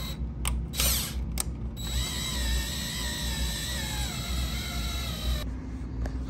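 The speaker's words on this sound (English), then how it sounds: "now we're going to use the tap to tap threads" A power drill whines steadily while turning a tap into a metal hole on a Subaru Forester, the pitch wavering under load, with brief bursts at the start and end.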